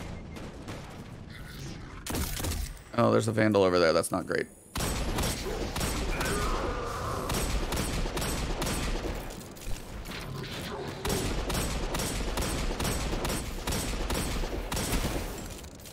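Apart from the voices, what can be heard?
hand cannon gunfire in video game Destiny 2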